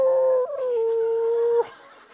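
Again a voice mimics an arctic wolf's howl, a single drawn-out tone that dips slightly and holds steady before stopping sharply, close and with no other sound.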